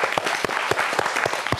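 Sustained audience applause at a Gomel evening event on healthy eating, dense steady clapping from many hands, loud and continuous throughout.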